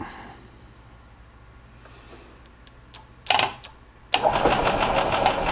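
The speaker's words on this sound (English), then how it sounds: "as you can see, the engine's cranking" A 1999 Yamaha G16 gas golf cart engine cranking when its solenoid is jumped, a few short sharp clicks and then a loud churning crank starting abruptly and continuing steadily.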